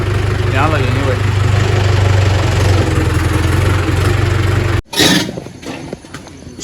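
Compact tractor engine idling loudly and steadily at a brick kiln, a continuous low drone that cuts out abruptly near the end before louder clattering and bumps.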